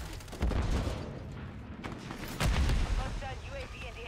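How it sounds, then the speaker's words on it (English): A grenade goes off in a multiplayer shooter video game, one of two heavy booming blasts about two seconds apart, each followed by rumbling decay amid ongoing gunfire. "Grenade out!"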